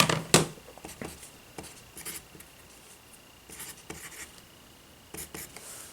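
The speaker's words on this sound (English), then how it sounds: "I'm not going to write every single digit" Pen scratching on paper as digits are written by hand during an order-of-operations math lesson, in short quiet bursts of scribbling separated by pauses, close to the microphone.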